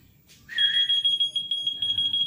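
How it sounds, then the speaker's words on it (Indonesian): Whistle-activated key finder keychain goes off after a short whistle, giving a loud, sharp electronic beeping alarm that pulses rapidly and steadily. "kalau dengan siulan maka dia akan berbunyi seperti kayak alarm"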